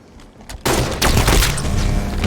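Rapid gunfire in the video game Halo 5 on the Plaza map: a sudden loud burst of shots erupts and keeps going as a dense, booming barrage of overlapping blasts, close and heavy, with no talk.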